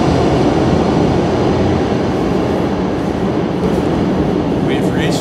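Train station in Milan with a train passing, a loud, steady rumble and roar filling the space throughout, with faint higher squeals near the end.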